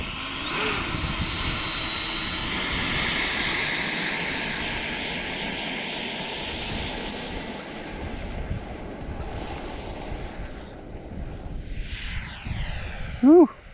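A FMS F/A-18F Super Hornet V2 70mm electric ducted-fan RC jet takes off, its thin turbine-like whine steady and then climbing in pitch over a broad rushing roar, fading toward the end before a short sharp burst.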